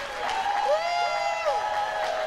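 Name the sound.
audience applause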